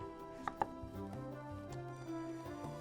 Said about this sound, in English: we're going to chop off the ends here of our zucchini